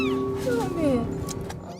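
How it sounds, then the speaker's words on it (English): Kittens cry with short, high, wavering meows near street-level storm drains, several overlapping calls in quick succession, fairly close, over a low background rumble. "One guy heard kittens cry while walking near the flush storm drains."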